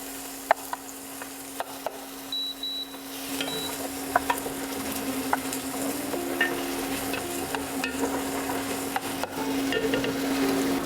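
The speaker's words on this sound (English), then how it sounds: "You're going to saute your onions and your garlic just for a couple of minutes." Onions and garlic sauté in a hot pan with a steady close sizzle, while a wooden spoon stirs and taps now and then. A faint tone hums underneath.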